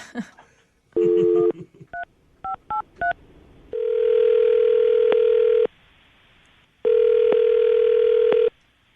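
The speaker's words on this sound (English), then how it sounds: "I'm going to dial the phone number right now" Push-button telephone dialing: a quick run of electronic beeps, then two long steady ringing tones with a pause between, clear and close, no talking.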